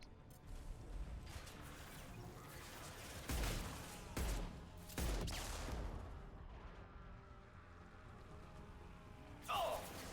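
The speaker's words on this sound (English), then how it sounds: "Wait, who else is shooting?" Enemy gunfire in Mass Effect 2 Legendary Edition: several bursts of shots and crashes ring out amid faint combat noise, with a sharp hit near the end.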